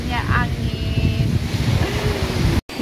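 Wind and surf on a beach at Pulau Pagang island, a steady broadband rush with wind buffeting the microphone, plus a brief dropout near the end.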